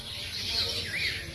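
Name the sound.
wild bird calling in forest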